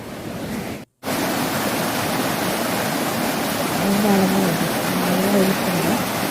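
River water rushes steadily nearby, a dense continuous roar broken by one brief dropout, with a faint tonal hum appearing later.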